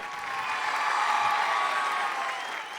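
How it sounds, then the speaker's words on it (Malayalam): Studio audience applauding on a Malayalam television game show, a dense burst of clapping that swells and then fades over a few seconds. "അടിപൊളി, നല്ലൊരു കൈയടി."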